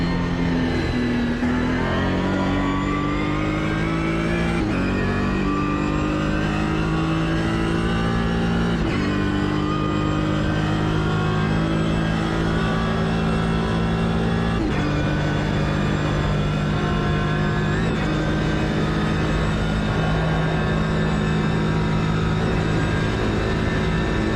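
A Ligier JS2-R race car engine in Automobilista 2 on the 2025 Nordschleife, a loud, steady in-car drone climbing in pitch and dropping sharply at each gear change, several shifts in a row, with no voices.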